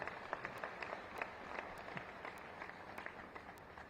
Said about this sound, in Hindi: जोरदार तालियां बजा करके इनका स्वागत करिए